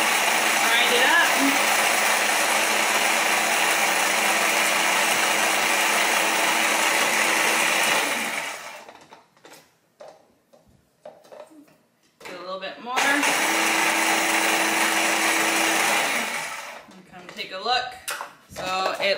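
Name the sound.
small food processor grinding freeze-dried spinach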